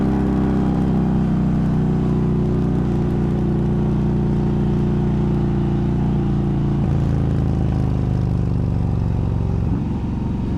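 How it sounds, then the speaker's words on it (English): An Indian Challenger motorcycle lapping the Barber Motorsports track, its engine droning loud and steady throughout, with a shift in pitch near the middle as the revs change. "this is not exactly the bike I would have chosen to do a couple hot laps on the track"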